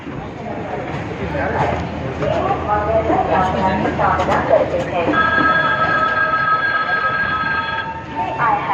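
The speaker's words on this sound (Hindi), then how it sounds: "सामने ट्रेन खड़ी हुई है इंदौर भोपाल एक्सप्रेस।" The Indore Bhopal Express stands at a railway platform in Ujjain, with steady station rumble and a tonal chime or signal tone joining midway, all under nearby talk and general platform bustle.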